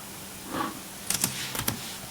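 Several quick keyboard keystrokes clicking close by, a short burst of typing on a computer keyboard with no talking.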